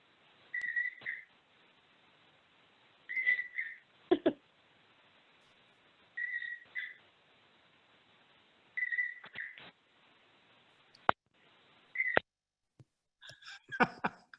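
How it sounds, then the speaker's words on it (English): A bird whistles in short repeated phrases with pauses between them, faint over a quiet online church service, followed by a few sharp clicks. "we've got a bird here from Marcia Krantz."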